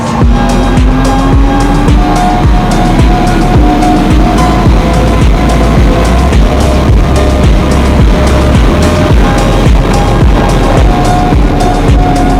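A 2023 Honda CBR RR-R SP FireBlade motorcycle at high speed, its engine a loud, sustained roar with a rising whine, buried in heavy wind rush that stays constant throughout.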